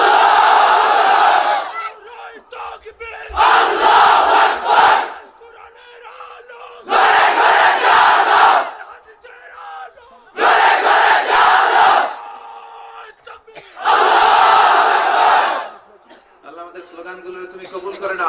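A large crowd at an Islamic sermon gathering shouts religious slogans in five loud collective bursts, each a few seconds long and separated by quieter gaps where a single voice leads the call.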